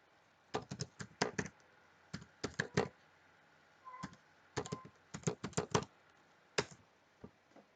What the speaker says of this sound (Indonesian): Kita ketikkan alamat.